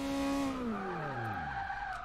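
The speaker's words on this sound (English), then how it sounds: "you can hear what it sounds like when you lock up. So it's quite a distinct sound" Tires lock up under hard braking on a race car in Forza Motorsport 6, a loud sustained squeal sliding downward in pitch over about two seconds, heard alone without talk.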